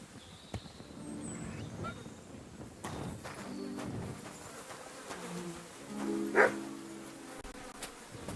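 A horse in the medieval video game Kingdom Come: Deliverance II, with soft hoof clops and snorting mixed among insect buzz and outdoor ambience, quiet throughout apart from a louder whinny-like burst near the end.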